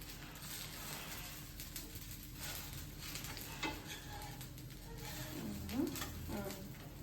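Onion dosa cooking on a pan over medium flame, a steady low sizzle with occasional scraping and tapping sounds, and a voice talking faintly at moments.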